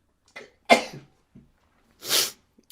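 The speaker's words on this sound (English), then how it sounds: "Sneezing." A single sharp sneeze, close and loud, preceded by a quick inhale, followed by a second breathy burst a moment later.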